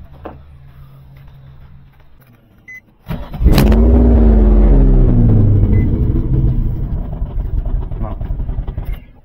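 A Nissan 350Z with a twin-turbo engine cranks and starts with a sudden loud burst, then settles into a rough, rumbling idle with small revs. Faint speech is heard before it fires.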